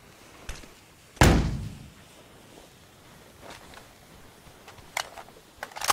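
Car doors slamming shut in a video game, one loud heavy thud followed by fainter knocks and clicks against quiet background.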